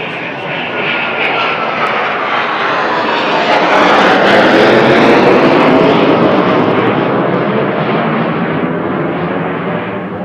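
A loud, roaring aircraft engine passes low overhead, swelling to a peak midway and then slowly fading, with no speech.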